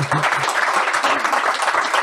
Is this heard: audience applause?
yes